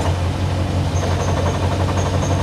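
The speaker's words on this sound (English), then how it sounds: "that chatter is from the springs in the clutch" A steady low engine rumble from a Mazda Miata with a fast rattling chatter from the clutch springs running through it, close and continuous, with faint high whines above.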